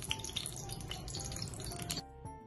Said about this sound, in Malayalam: ആദ്യം ഒരു കുക്കറിലാണ് നമ്മൾ ഇത് ഉണ്ടാക്കുന്നത് അപ്പൊ കുക്കറിലേക്ക് ആദ്യം എണ്ണ